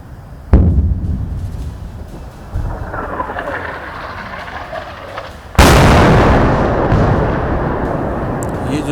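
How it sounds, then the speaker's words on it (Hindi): Mortar shell fire and explosions near Poonch during night-time cross-border firing: a sharp blast, a second deep thump, then a much louder, very close explosion whose rumble lingers and slowly fades. "मोटार शेल ऐसे आवाज़ से ऐसे लगता है जैसे मोटार शेल पाकिस्तान की तरफ से छोड़े"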